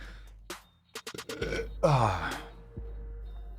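A man's loud, drawn-out burp close to the microphone, preceded by a few short clicks and breathy noises.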